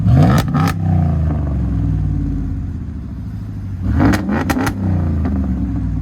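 A Ram 1500's 5.7L Hemi V8 exhaust rumbles at idle while warming up, then snaps into a few sharp revs with crackling pops, loud and close.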